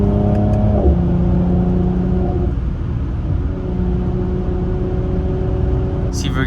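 A Mercedes C43 AMG engine drones and rumbles at highway speed during a night drive, steady and close throughout, with a pitch shift as the revs change early on.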